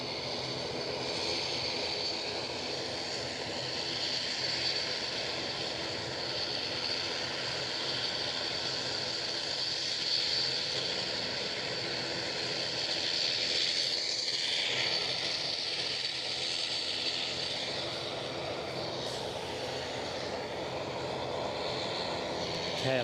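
A KLM jet airliner accelerates down the runway at Edinburgh airport on its takeoff roll, a sustained roar with a high engine whine that holds across the stretch and peaks near the middle, heard from the field's edge.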